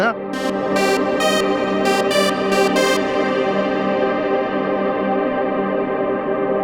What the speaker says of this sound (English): let's add a huge reverb to that